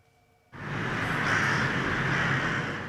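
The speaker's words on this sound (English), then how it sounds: "The crows are here." Crows in Tokyo caw over a dense, steady wash of noise that starts abruptly after a brief quiet moment, with the calls hard to pick out from the loud continuous background.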